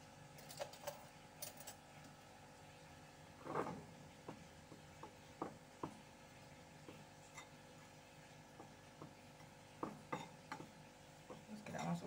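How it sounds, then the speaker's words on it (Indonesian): A spoon stirs steamed brownie batter with cocoa powder in a bowl, quiet scraping and occasional clinks against the side at irregular intervals, faint and close in a quiet room. "Kita aduk rata."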